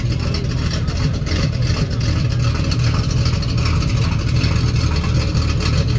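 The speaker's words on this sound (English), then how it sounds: "Always ending with a American V8 sound on this beautiful Malibu SS." A classic Chevrolet Malibu SS with an American carbureted V8, heard on a street in Milan, Italy, giving a loud, steady, deep exhaust rumble that holds continuously and close throughout.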